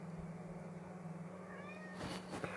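A cat meows faintly once near the end, a soft drawn-out call rising out of steady low background hum, with no talking.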